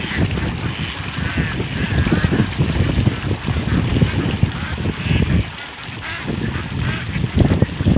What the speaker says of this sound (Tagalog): ay nagrumble nga po itong mga alagang itik natin